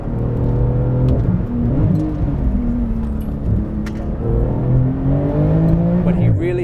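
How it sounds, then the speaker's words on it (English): A 700 HP Porsche 911 GT2 RS engine drones and rises in pitch as it accelerates through the gears on the Nordschleife, heard from inside the car with a steady loud rumble and talking over it. "But he really hit the gas in second gear."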